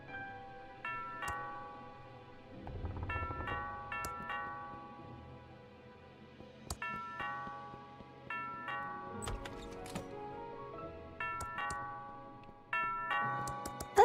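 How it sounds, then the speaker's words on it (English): A doorbell chimes in the point-and-click adventure game Thimbleweed Park, repeated two-tone dings rising over a quiet backdrop of soft game music and faint ticking. "That sounds like the doorbell."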